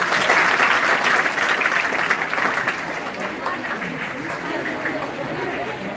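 Schoolchildren clap together in a classroom, a loud, dense burst of applause that starts strong and then tapers slightly toward the end, with some chatter mixed in.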